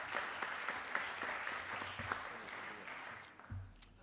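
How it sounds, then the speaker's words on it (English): Senate chamber applause for a senator's birthday, steady clapping from a crowd of legislators running throughout, fairly distant and even, with faint voices underneath. "Let's give him a round of applause."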